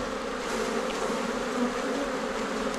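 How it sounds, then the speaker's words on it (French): Honey bees swarm around beehives on Réunion in intense heat, a continuous loud buzzing drone close by with no talk over it. "Des ruches de mon camarade."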